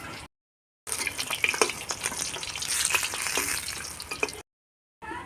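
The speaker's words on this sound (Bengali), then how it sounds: "এই যে মাছটা আমি পরপর করে ভাজে নিলাম সুন্দর করে" Fish pieces fry in hot oil in a pan, giving a continuous crackling sizzle with sharp pops and spatters, heard close and alone between short silent gaps.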